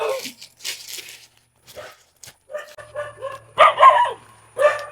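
Several short, sharp dog barks at a moderate distance, in scattered bursts with brief pauses between them, loudest near the end.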